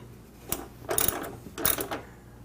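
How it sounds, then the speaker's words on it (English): A ratchet wrench with a 10mm deep socket tightens a nut on a bracket stud while a Chevy Camaro intake kit is installed, giving two short bursts of rapid clicking at close range with no voices. "tighten it back down with with your 10mm deep socket"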